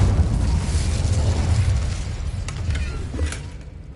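Incendio fire spell in Hogwarts Legacy, a loud whooshing burst of flame that roars steadily, then thins out with a few crackling flickers as it fades.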